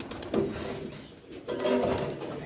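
Pigeons in a coop on a farm give two close, soft cooing calls, one early and one later, over a steady background hiss.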